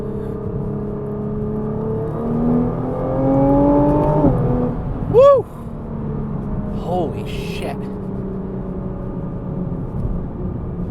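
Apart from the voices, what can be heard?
Nissan GT-R T-Spec accelerating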